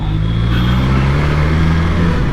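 BMW S1000XR motorcycle being ridden, its engine giving a steady, loud, close drone with a constant low hum and no clear revving or gear changes, heard alone without talk.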